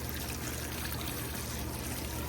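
Rock tumbler slurry from the pre-polish step, with plastic media, is poured out onto a table as a steady, continuous wet trickling and splashing. It sounds close and moderately quiet, with no pauses and no voices.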